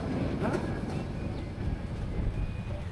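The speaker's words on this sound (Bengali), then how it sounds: "এই মাত্র ট্রেনটি ভৈরব বাজারে এসে থামলো।" A train pulling into Bhairab Bazar station and coming to a halt, giving a steady loud low rumble of wheels and carriage noise throughout, with faint high squeals on top.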